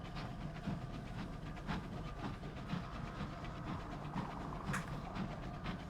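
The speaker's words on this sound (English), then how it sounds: "Nice little steam train fly through space." A steam train locomotive flies through space in the video game Sunless Skies: a continuous rumbling chug with rhythmic clicking and hissing steam, steady and moderately loud throughout.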